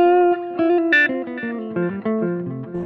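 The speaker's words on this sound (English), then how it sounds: "on the RC booster I just add a little touch of distortion" A jazz electric guitar lightly overdriven through an Xotic RC Booster pedal plays a short melodic phrase of sustained single notes, slightly gritty and warm, with no voices.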